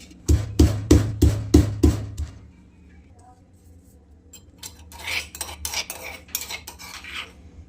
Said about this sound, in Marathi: सात आठ मिरच्या घेतल्यात त्यात मीठ टाकून कुटून घेऊयात आपण